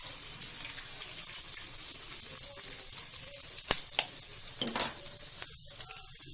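Onion and capsicum fry in a pan with a steady sizzle, punctuated by a few sharp scrapes and clinks of a utensil stirring, no talking.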